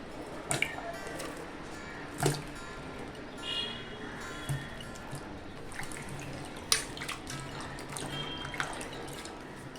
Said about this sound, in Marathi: आपण पाण्यात स्वच्छ धुवून घेऊया